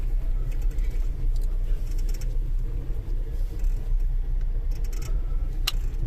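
A car's engine rumbles steadily up close while the car reverses in reverse gear, a continuous low drone with no talk over it.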